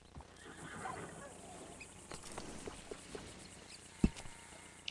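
A horse whinnies and snorts close by in the video game Red Dead Redemption 2, with a few hoof clops and soft shuffling, and a sharp knock near the end.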